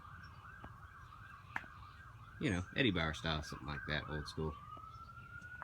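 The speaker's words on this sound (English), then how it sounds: "sorry about the sirens in the background there" A distant siren drones steadily in the background while someone talks over it inside a van being fitted with carpeting, the wail rising again near the end.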